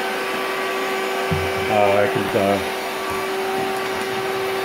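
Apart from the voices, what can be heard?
vacuum cleaner vacuuming up cockroaches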